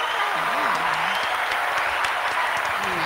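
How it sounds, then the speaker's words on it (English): Audience clapping at a sermon-style talk, a steady wash of applause with a few cheers, while a voice speaks and calls out over it. "clap for me, man"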